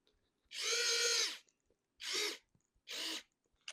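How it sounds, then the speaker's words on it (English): ANDELI rechargeable electric precision screwdriver driving a screw into a board: three close whirring motor bursts, one long followed by two short, separated by quiet gaps with small clicks. "Let's take this regular, and I'm gonna tighten it on this board."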